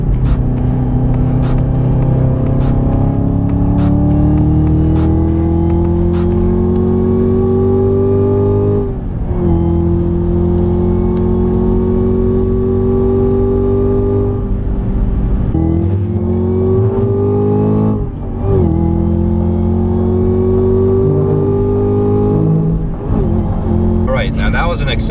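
A 2018 Chevrolet Camaro ZL1 1LE accelerates hard up a mountain road, its loud, close engine note climbing steadily in pitch through several gears, with brief dips at each shift.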